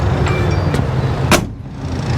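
A door on a tidy 1970 Ford F250 High Boy truck with a 12V Cummins swap shuts with a single solid thunk, close and clear, over a low background rumble.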